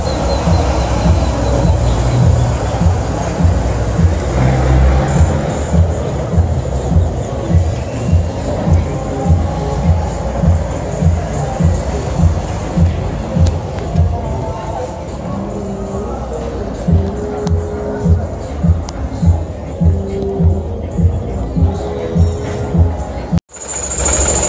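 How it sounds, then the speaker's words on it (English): Street traffic in Merida, Mexico: a continuous wash of engines and rolling vehicles close by, with rhythmic rumbling passes and a person speaking now and then. "I guess there is traffic out here"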